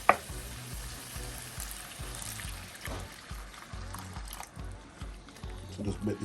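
Water is tipped into a pot of seasoning cooking down, giving a soft sizzling bubble with faint liquid stirring and gentle clinks, quiet and close, under a voice talking.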